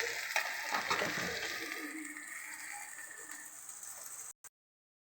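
Artika pieces fry and get stirred in a pan, Telangana style: a steady close sizzle with scraping, clattering spatula strokes near the start, fading slightly before cutting off abruptly.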